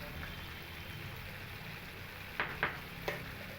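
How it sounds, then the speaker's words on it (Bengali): Spice paste for a chhana kofta curry frying steadily in a pan, a soft continuous sizzle broken by a few sharp scraping clicks of stirring near the end. "মশলাটাকে একটু অনবরত নাড়তে নাড়তেই কষিয়ে নিতে হবে, তাই না হলে তলায় লেগে যেতে পারে।"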